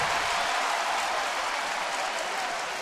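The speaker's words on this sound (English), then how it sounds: "another round of applause for the young man" Crowd applause rolls steadily through a Major League Baseball game between Philadelphia and Washington, a dense, even wash of clapping from a large stadium audience with no voices standing out.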